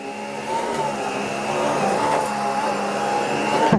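A Miele Triflex HX2 vacuum cleaner runs on its low suction setting with a steady, close whirring drone and a faint motor hum that holds level throughout, with no voices.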